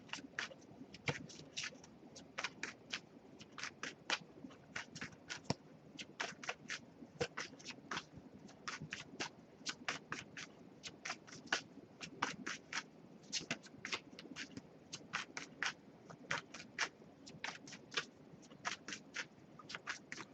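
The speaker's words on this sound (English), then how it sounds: "I'll give it a few more shuffles before we move on." Oracle cards being shuffled by hand during a card reading: quiet, close, crisp riffling bursts repeating in quick irregular clusters throughout, with no talking.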